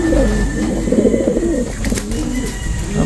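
Ice pigeons cooing up close, a loud run of repeated throaty coos that rise and fall, with faint chirps and a brief flutter in the background.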